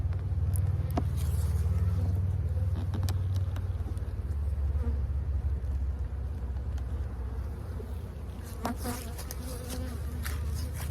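Honeybees buzz in dense, continuous swarms as a hive is opened for a spring inspection over the brood frames, with a low, steady drone up close and a few sharp clicks and knocks.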